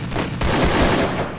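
Rapid bursts of gunfire during a Counter-Strike style ranked match, dense, loud and continuous with overlapping shots from start to finish, no talk.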